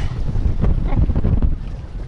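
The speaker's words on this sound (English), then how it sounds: "Today, I'm also riding a boat. Wow you are going against the waves." A boat off Mombasa pushes against the waves, heavy buffeting wind and rushing water roaring close to the microphone with rhythmic thumps as the hull hits the swell.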